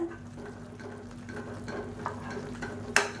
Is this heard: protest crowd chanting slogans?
no